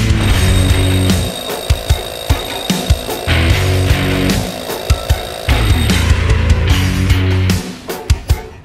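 A Hilti Nuron TE 60-22 cordless SDS Max combihammer working concrete, heard as loud, close mechanical rattling and hammering with repeated sharp impacts and brief pauses, ending in a few distinct knocks.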